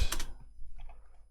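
Typing on a computer keyboard while setting up a C# script for a game enemy spawner, a short burst of close keystrokes followed by a few fainter clicks.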